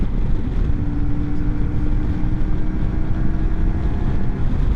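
A CFMOTO Ibex 450 adventure motorcycle engine drones at high revs while riding, a loud continuous roar mixed with heavy wind rush on the microphone.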